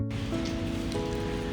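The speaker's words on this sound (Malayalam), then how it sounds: "ഇവിടെ ഭയങ്കര മഴയാണ്" Heavy rain pours down in Georgia, a dense, steady patter with a low constant hum underneath.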